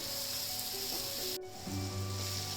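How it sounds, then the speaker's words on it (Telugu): Vegetables sizzling in a hot pan after salt and black pepper are added, for egg noodles; a steady, close frying hiss with a brief stirring scrape partway through. "ఇప్పుడే సాల్ట్, బ్లాక్ పెప్పర్ వేసిన తర్వాత కొద్దిగా ఫ్రై అవ్వాలండి ఇవి"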